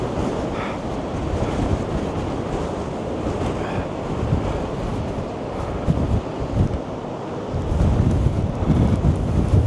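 Storm Darragh drives roaring wind and crashing surf along the Blackpool promenade at high tide, 70 mph gusts buffeting the microphone in a constant loud rumble that surges stronger near the end.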